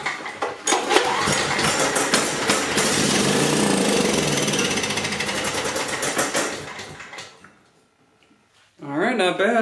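An old generator engine fires up on carb cleaner used as starting fluid and runs loud and rattly for several seconds, then dies away, followed by someone speaking.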